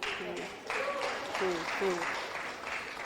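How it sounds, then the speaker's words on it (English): An audience claps steadily at an awards event, a dense wash of applause running under a speaking voice. "You clapped on this"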